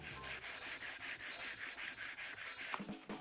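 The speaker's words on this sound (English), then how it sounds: "Sand this down." Sandpaper rubs back and forth over a filled oak furniture surface by hand, about a dozen even, rhythmic strokes close up, ending with a brief knock as the work stops.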